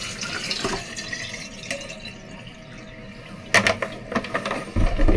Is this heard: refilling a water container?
yes